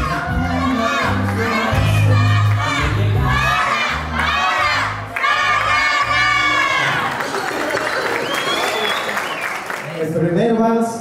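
A quinceañera party crowd claps and cheers loudly for the birthday girl, with shouts and whoops over booming music as an announcer speaks.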